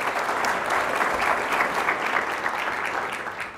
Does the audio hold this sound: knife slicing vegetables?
no